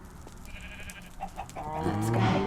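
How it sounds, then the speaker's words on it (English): Cows mooing in the Minecraft video game, with animal-like calls building toward a drawn-out harmonic moo near the end over a steady background bed. "Down to the moo cows."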